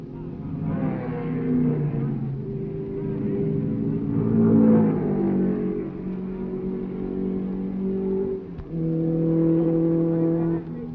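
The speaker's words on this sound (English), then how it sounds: "Piper Maggs Ferrari pits for gas and a driver change." Vintage race cars at the 1965 Sebring 12 Hours, including a Ferrari, roar with sustained engine drone that rises and falls, with a brief dip near the end, under continuous narration.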